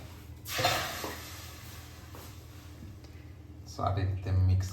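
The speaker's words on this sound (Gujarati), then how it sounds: "સારી રીતે આપણે મિક્સ કરી લઈશું ઢોકળીને." Dal dhokli being stirred in a pot with a spoon, soft scraping and bubbling over a steady low cooking hum, with someone talking throughout.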